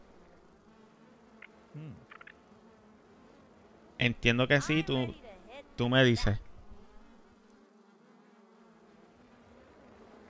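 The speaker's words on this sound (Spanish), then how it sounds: "Diablo, cómo se escuchan las moscas." Flies buzzing steadily in the background of a Grounded game session, a continuous insect drone running under a man's Spanish speech that swells loudly in the middle.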